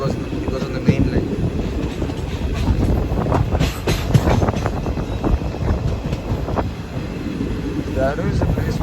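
TPJ-PGT passenger train running on the main line between Erode and Coimbatore, loud continuous rumble with rhythmic wheel clatter heard from onboard, a voice talking over it.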